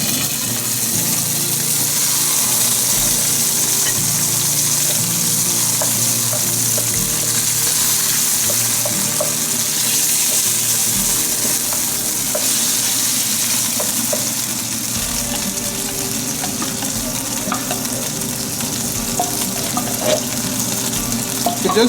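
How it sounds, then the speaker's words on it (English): Food frying in oil in a pan gives a steady, close, dense sizzle that holds at an even loudness for the whole stretch, with no talking. "We're just going to fry this for a little bit."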